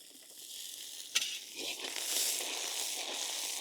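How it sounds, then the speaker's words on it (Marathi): Coconut spice paste frying and sizzling in a pan, a steady close hiss with a stirring scrape and one sharp knock early on, no voices. "वाटण व्यवस्थित परतून घेऊ आपण 2 मिनिटं"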